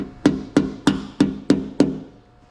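Ball-peen hammer tapping down a rust-repaired dogleg and rocker panel on a Porsche 944: six evenly spaced, sharp metallic strikes, close and fairly loud, with ringing decay and no talking.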